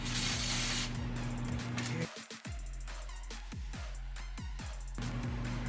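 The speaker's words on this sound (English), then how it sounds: "Do a little brake cleaning." Brake cleaner sprays onto the timing cover of a 2008 Chevy Suburban LTZ engine, starting with a long, loud aerosol hiss and then a string of short, close spray bursts, with no talking.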